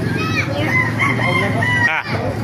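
A golden gamecock crows at a rooster market in Baliuag, one drawn-out cock-a-doodle-doo rising and falling close by, with people chatting and other fowl clucking around it.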